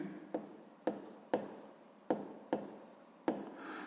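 A pen scratches on paper in six short, evenly spaced strokes while math answers are written down, each a faint close scrape with a soft attack and quick fade.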